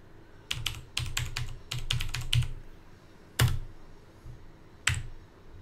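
Keys clatter on a computer keyboard in quick bursts of close, crisp taps, followed after a pause by two isolated louder key strikes, with no talking.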